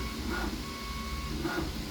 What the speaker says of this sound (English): once again, sorry for the printer noises